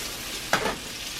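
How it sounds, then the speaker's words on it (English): A pound of pepper bacon fries in a pan, a faint low sizzle with one brief louder spit of grease partway through. "I'm cooking some bacon. This is a pound of pepper bacon for my breakfast in the mornings."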